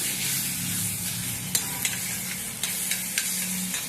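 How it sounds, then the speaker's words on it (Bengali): Cauliflower pieces fry in an oil-filled pan for a mashed bhorta, with a steady close sizzle broken by sporadic scraping clicks as a spatula stirs them; no voices. "আবার একটু নাড়াচাড়া করে দিই, নাহলে নিচটা ধরে যাবে।"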